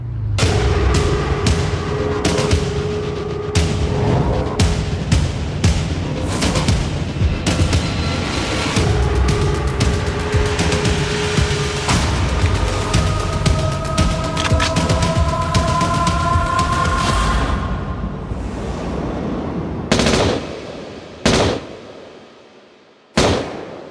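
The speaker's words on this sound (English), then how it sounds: "Barry Seal dies instantly when 7 .45 caliber bullets hit his head, chest, and neck" Rapid gunfire from .45 caliber shots in a dramatized shooting, a dense barrage of sharp cracks and booms running continuously for most of the stretch before breaking into a few isolated loud reports as it fades near the end.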